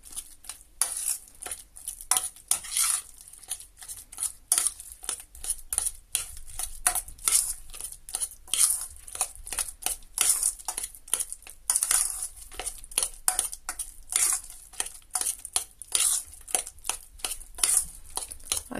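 A spoon scrapes and clinks steadily against a bowl while a grated potato and cheese mixture is stirred for potato cheese galettes, a close, rhythmic run of small metallic taps with no talking.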